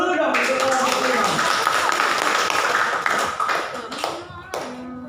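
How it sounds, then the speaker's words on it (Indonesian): Audience applause at a classroom teaching presentation, steady clapping from a group filling the room and then tapering off over a few seconds, with voices talking over it. "Kita beri aplaus dulu dong untuk orang semua."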